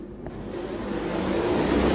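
Loud, noisy doors on a Schindler 5500 MRL traction lift at a Coles Local in Adelaide give off a rough, grinding rumble that builds steadily over two seconds, with no talk over it.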